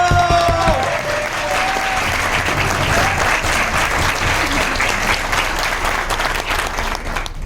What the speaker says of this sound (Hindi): अरे एक बार जोड़ो ताली तो बताइए जोरदार